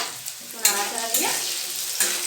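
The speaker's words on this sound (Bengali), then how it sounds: "একটু নাড়াচাড়া দিয়ে" Pumpkin greens and potato fry in a pan with a steady sizzle while a utensil stirs them in a few close scraping strokes, with no talking.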